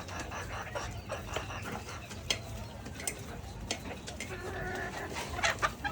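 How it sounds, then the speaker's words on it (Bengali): Chickens eat scattered feed in a yard, clucking steadily with busy pecking and scratching up close, over a low constant background rumble. "কি পরিমাণ মুরগি খায় বা পছন্দ করে।"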